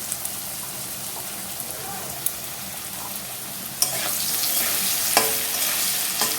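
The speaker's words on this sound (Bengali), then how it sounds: "আলুটা আমার ভাজা হয়ে গেছে আমি দিয়ে দেবো কাশ্মীরি লঙ্কার গুঁড়ো একটু" Fried potatoes in a pan sizzle steadily as Kashmiri chili powder and ground spice paste are added for a rui fish curry, with sharp stirring clicks and a louder, fuller sizzle partway through.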